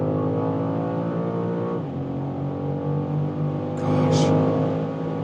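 A 2025 BMW M5 accelerating hard on the Autobahn, loud sustained engine roar with rising tone, a brief dip as a gear changes, then building intensity near the end.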